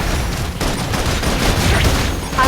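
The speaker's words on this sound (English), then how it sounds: "Requesting full suppression gunfire." Sustained gunfire in the video game Love and Deepspace, a continuous barrage of rapid shots and booms filling the whole stretch at steady loudness with no talk.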